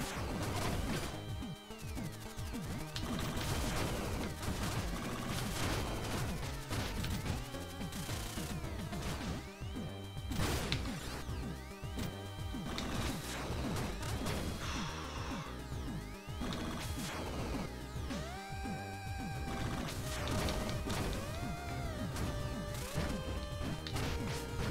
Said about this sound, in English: Exo missiles.